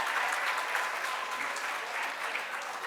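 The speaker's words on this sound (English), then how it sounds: "Give a round of applause" An audience at a meeting claps in steady, dense applause, a continuous wash of many hands, fairly close, with no other sound standing out.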